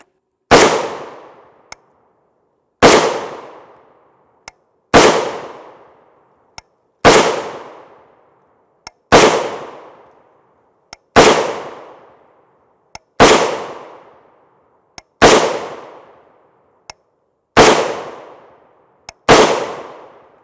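Ten sharp, loud .308 Winchester shots from a 13-inch SCAR 17S short-barreled rifle, fired one at a time at steady intervals of about two seconds, each ringing out with a decaying echo.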